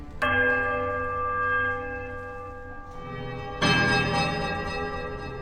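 Bells in a temple in the video game Pillars of Eternity are struck twice: one deep, sustained toll that fades slowly, then a second loud strike near the end. The ringing is close, clear and resonant, with no voices.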